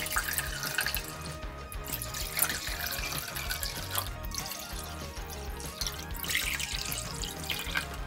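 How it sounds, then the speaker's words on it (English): Tap water pours into bowls before bath bombs are dropped in, making a steady splashing, trickling flow with bubbling and dripping textures that runs for several seconds, close and fairly loud, with no speech. "Let's go ahead and pour some water in the bowls."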